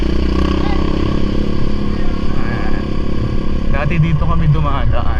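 A motorcycle passes along a community path near a park, its engine droning steadily and fairly close while someone speaks over it.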